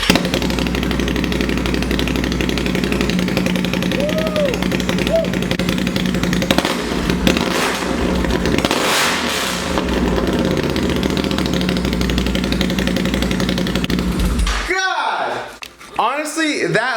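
A loud, rough Can-Am Outlander ATV engine with an aftermarket Yoshimura exhaust idles steadily on a cold start for most of the clip, its exhaust note heavy and continuous before dropping away near the end.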